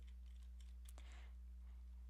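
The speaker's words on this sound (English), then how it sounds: "I'm typing" Faint keystrokes on a computer keyboard while entering a Social Security field, a few scattered soft clicks with a slightly louder cluster near the middle over a steady electrical hum.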